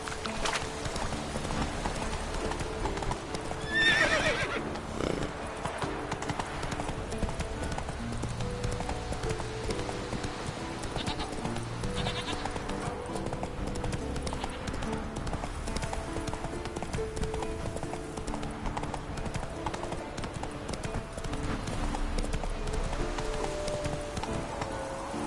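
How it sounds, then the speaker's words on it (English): Hooves clip-clop steadily from a galloping horse in The Witcher 3 game, a continuous rhythmic beat layered with game ambience and a short burst of other sound early on. "Not so fast, Roach. Faster."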